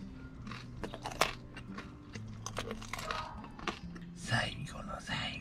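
Someone eats the final bite of a breakfast, close crunching bites and soft chewing in irregular bursts, intimate and quiet, with faint whispered talk woven among the mouth sounds.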